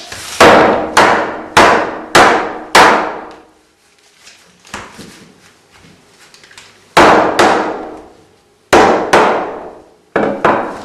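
A rolling pin smashes chocolate in a kitchen, loud sharp whacks in two bursts of rapid blows separated by a quieter stretch of small rustling and clatter, close up with no talking.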